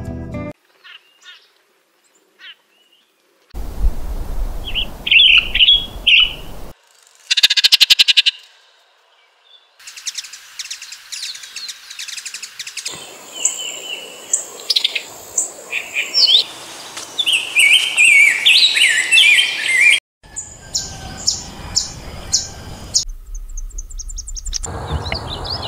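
Migratory birds sing in El Salvador's gardens and urban areas: bursts of high, bright chirps and trills come and go between quiet gaps, with some lower croak-like calls mixed in, and no voices.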